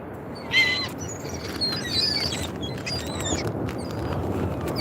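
Seagulls call at a beach, their sharp, high cries repeating overhead above a steady wash of outdoor background noise.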